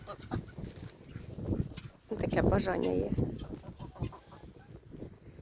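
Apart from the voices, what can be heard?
domestic runner and Muscovy ducks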